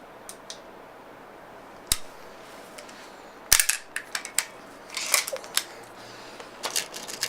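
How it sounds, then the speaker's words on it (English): Several sharp cracks from a Beeman P1 .22 caliber air pistol fired on high power, spaced out irregularly with smaller clicks and mechanical snaps between them, fairly close and over quiet room tone. "Another shot of high power with the Beeman P1."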